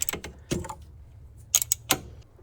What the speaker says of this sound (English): so now we can just go ahead and remove this last bolt that we were like we couldn't get to